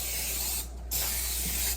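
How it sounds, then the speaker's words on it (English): Cooking spray hissing onto a baking pan for ham balls, two close bursts of aerosol spray separated by a brief pause, loud and alone. "Then you want to grease your pan generously."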